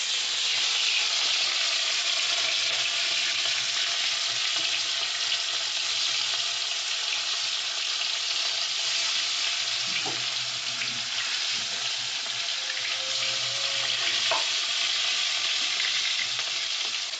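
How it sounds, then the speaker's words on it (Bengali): Pieces of catla fish sizzle steadily in hot oil for a Bengali doi katla dish, a continuous, fairly loud hiss with a couple of brief spatters and light clinks partway through, with no talking. "তো চলো মাছটা ভাজা হয়ে যাক"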